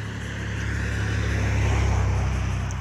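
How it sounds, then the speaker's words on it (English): Steady roar of passing cars on a busy neighborhood road, a continuous low rumble that swells slightly and stays loud throughout, with no talking. "So many cars. I apologize if it's loud."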